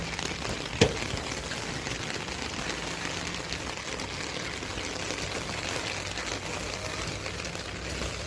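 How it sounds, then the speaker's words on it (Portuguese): Heavy rain in Rio Grande do Sul, a dense, steady hiss of downpour that holds evenly throughout with one brief knock near the start. "Muita chuva aqui no Rio Grande do Sul."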